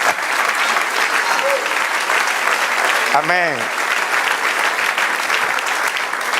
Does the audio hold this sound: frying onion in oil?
no